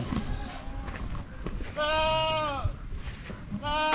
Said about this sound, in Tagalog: Ito guys, ang kanyang mga kambing pa dito.